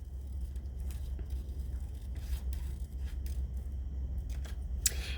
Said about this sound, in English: I'm gonna cut out this because I want to make this in high relief.